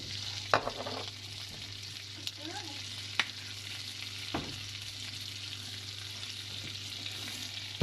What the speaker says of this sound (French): La base des asperges, je chauffe juste avec un peu de beurre, sel, poivre.